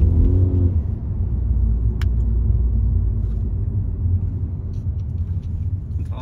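A 2023 Volkswagen Polo GTS in sport mode, heard from inside the car as a steady low engine rumble and road drone while accelerating gently, loud and continuous.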